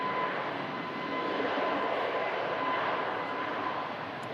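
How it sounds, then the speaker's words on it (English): An Airbus A321neo airliner rolls for takeoff, a steady broad engine roar heard from a distance that holds evenly throughout without talk. "Another Neo on the roll. An Airbus A321 Neo."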